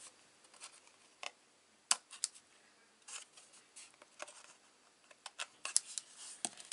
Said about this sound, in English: I can trim those little bits off